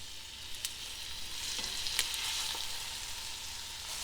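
Butter sizzles and crackles steadily in a hot pan, a soft continuous frying hiss with a few sharper pops, no talking.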